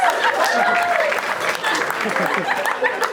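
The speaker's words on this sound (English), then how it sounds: "Huge round of applause for Vishal." Studio audience applauding a contestant on a comedy guessing game show, steady close clapping throughout with a host's voice talking over it.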